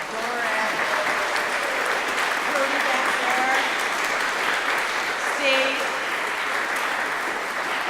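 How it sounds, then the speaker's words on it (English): A parish meeting audience applauds the parish team, sustained clapping at an even level throughout while someone speaks over it. "I just would love to have everyone applaud you"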